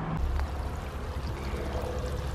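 Water from two garden sprinklers fed by hoses and set low in a hot garden, heard as a steady close hiss and patter of spray with no talk.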